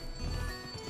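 Horse hooves gallop in the Western video game GUN, a quick, faint series of low thuds lasting about a second with no speech.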